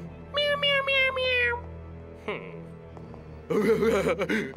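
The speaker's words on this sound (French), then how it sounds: "J'avais cru entendre un bruit, mais je crois que c'était qu'un petit chat." Two cartoon kitten meows: a drawn-out one first, then a wavering, higher one after a pause, over a low steady hum.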